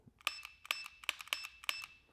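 Reactive dry-fire target beeping as a laser hits it, five short bright electronic chirps spaced about half a second apart, clear and close in a quiet room.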